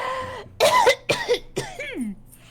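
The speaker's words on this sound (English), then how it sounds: "hacking and coughing" A harsh, hacking cough comes in three or four rough, throaty bursts spaced about half a second apart, each raspy and strained, with a brief throat-clearing sound at the start. It is close and loud, with no talk.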